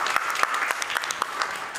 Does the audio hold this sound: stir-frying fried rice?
no